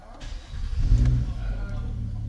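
A 2010–2016 Nissan Maxima engine cranks and catches, with a low surge of rumble near the one-second mark that settles into a steady idle, close by and moderately loud.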